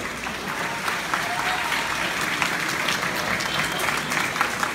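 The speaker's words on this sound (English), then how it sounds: "welcome him up with a big round of applause, Mr. Jorge Contreras" A crowd at a high school motivational speaker event applauds steadily and loudly throughout, a dense wash of clapping with some cheering mixed in.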